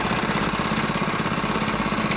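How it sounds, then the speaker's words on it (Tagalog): A motorcycle engine repurposed as a winch to haul a fishing longline for swordfish and giant squid idles steadily nearby, with an even, throbbing pulse and no other sounds. "Yan, makina ng motor."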